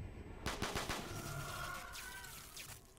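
Gunfire in Call of Duty Black Ops 3 custom zombies, a short quick volley of shots followed by a fading ring and a faint whoosh, fairly quiet.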